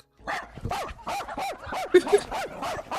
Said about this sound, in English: this clip of Speed barking at a dog